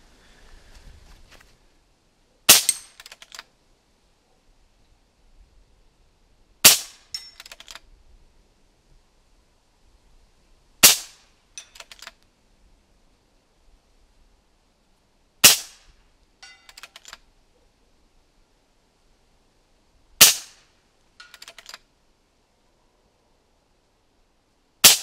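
Rifle shots fired at range targets, used while testing an Element Optics HYPR-7 scope: six sharp, loud single reports spaced several seconds apart, each followed by a brief echo, with near silence between shots.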